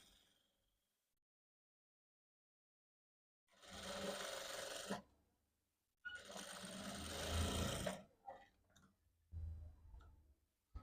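Sewing machine running in two separate bursts while double stitching a blouse seam, with a quiet stretch before them and shorter stop-start runs after. The machine sounds close and steady, and no one speaks.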